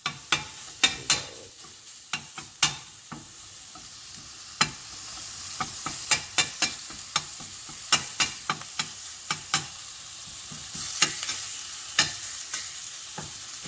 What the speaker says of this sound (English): And I'm going to cook the ground beef first